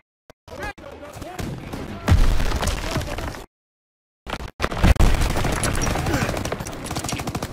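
Gunfire in Call of Duty: WWII on Xbox One, loud bursts of rapid shots and booms in two stretches separated by a silent gap, with shouted voices mixed in.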